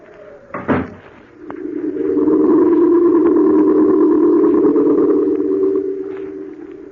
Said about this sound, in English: I shut the door behind me